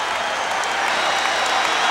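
Basketball arena crowd at an Indiana versus Michigan college game applauding the team's hustle, a dense, steady wash of clapping and cheering, loud and continuous.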